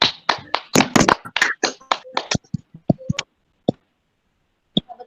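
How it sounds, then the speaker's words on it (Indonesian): Scattered hand claps from a small group in a classroom after a student presentation, starting as a brisk burst of uneven claps and thinning out to a few isolated last claps and silence. "Boleh kita beri tepuk tangan untuk kelompok 2."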